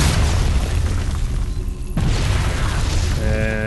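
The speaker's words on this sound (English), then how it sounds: "the collapsible rocks will fall, hit the command center, and probably damage them" In StarCraft II, collapsible rocks come down onto a command center with a loud, booming rumble of crashing stone. A sharp impact marks the middle, followed by ringing mechanical tones.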